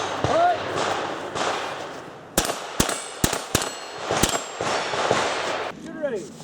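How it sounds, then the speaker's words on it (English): Junior shooters in a scholastic steel challenge fire at steel targets: about five sharp, loud shots in an uneven sequence, with background crowd chatter and outdoor noise. "we're going to see some of the junior shooters shooting"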